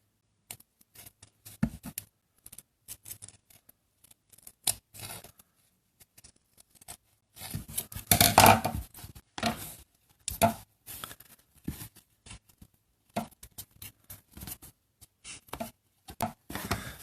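Cutting tool carving a linoleum block for linocut printing, short scraping and gouging strokes in irregular bursts with pauses, close and alone.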